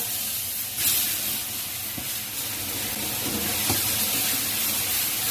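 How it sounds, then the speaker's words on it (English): Cumin, hing and masala sizzling in hot Amul butter in a kadai, a continuous loud hiss and crackle with a few faint clinks, steady throughout and no voices. "The kadai is now hot, so I'll apply a little bit amul butter, add little bit cumin, pinch of hing, add the masala."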